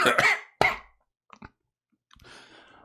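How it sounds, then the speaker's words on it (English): A video game character gives two quick, close coughs, followed by a few soft clicks and a faint rustling noise. "That's the cough of the characters, just clarifying"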